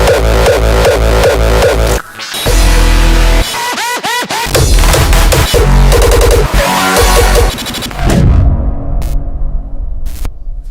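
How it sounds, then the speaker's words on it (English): Hardstyle kick drums built in the Kick 2 plugin hit loud and distorted. A steady pounding pattern breaks into stuttering, pitch-sweeping hits, then one booming kick rings out and a few sparse clicks end it. No one speaks. "a hardstyle kick, from scratch"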